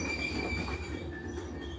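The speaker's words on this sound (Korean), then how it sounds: "브레이크는 걸려 있었지만 출력이 높게 잡고 있어 열차가 가속이 붙었던 것이죠." Steady rolling rumble of a runaway train gathering speed on rails, with sustained high metallic wheel squeal riding over it throughout, loud and close, no voices.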